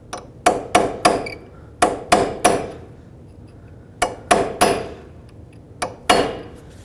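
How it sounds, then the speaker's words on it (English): Metallic hammer strikes on a punch staking an axle nut on a 2003-2008 Toyota Corolla, close and sharp, landing in quick groups of two or three with short pauses between sets. "So take a punch and a hammer and make a little indent."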